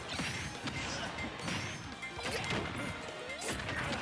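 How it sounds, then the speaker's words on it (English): Grenades exploding in Super Smash Bros. Ultimate, several crashing bursts mixed with hits and swooshes in a busy stream of fight sounds, with commentators talking over the action. "the grenades coming in a lot more in this game than they were in that first one"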